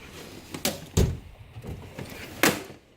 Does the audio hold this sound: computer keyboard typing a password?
no